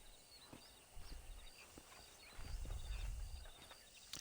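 Horse hooves clip-clopping in the Western video game Red Dead Redemption, a few scattered hoofbeats building to a louder, denser patch of trampling midway, with faint ambient game sounds throughout.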